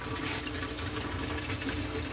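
Water runs steadily through the sump filtration system of a freshwater turtle tank, a dense, continuous close-up rushing and splashing with no breaks, loud and unchanging throughout.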